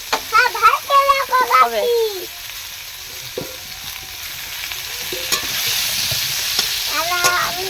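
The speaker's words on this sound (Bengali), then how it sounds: "আলুটা একটু লাল লাল করে ভেজে নেবে" Potatoes frying in a pan for a chicken curry, sizzling steadily while being stirred, with a voice talking over the start and end.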